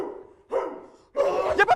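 A dog barks at a rooftop home, starting with a low growl, then a burst of several sharp, close barks and yips near the end, with no talking.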